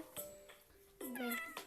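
A video game cat in Miga World meows a few times, short tonal cries with a longer wavering one near the end, fairly close and clear against quiet background.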